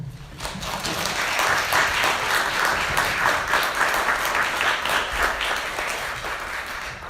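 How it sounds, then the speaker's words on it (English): A warm round of applause for speakers at a mental health panel, dense, sustained clapping from an audience that swells and holds for several seconds before easing slightly. "Again, another warm round of applause for our speakers today."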